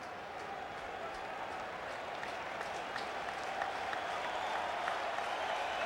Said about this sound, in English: The big crowd rooting the kid on.